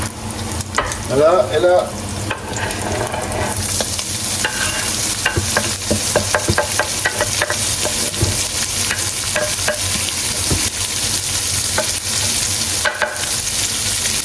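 Garlic and onion sautéing in olive oil hiss steadily up close, with frequent clinks and scrapes of a utensil stirring in the pan; a voice speaks briefly at the start.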